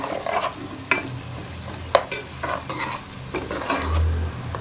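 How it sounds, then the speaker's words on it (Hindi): Coriander being stirred into an ojri (tripe) curry in a pan, a spoon scraping through a steady background sizzle, with several sharp metallic taps against the pan. "अब इसमें धनिया ऐड करेंगे और अच्छी तरह मिक्स करेंगे।"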